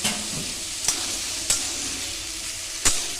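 Raw vegetables go into a pan of sizzling spices for a chicken stew: a steady hiss of frying fills the clip, broken by three sharp utensil knocks or stirs, close and fairly quiet, with no talk.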